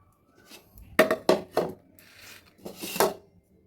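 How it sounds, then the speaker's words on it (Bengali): Thinly sliced tomatoes are dropped into a bowl in a handful of distinct soft clatters and knocks against the dish, separated by brief quiet gaps in an otherwise calm kitchen. "এগুলো আমি মাখার সুবিধার জন্য নিয়ে নিচ্ছি বাটিটার মধ্যে"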